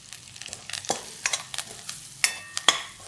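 Soft frying of chili powder and chopped coriander in hot oil, a low sizzle with intermittent scraping taps of a spoon stirring the pan, close and fairly quiet.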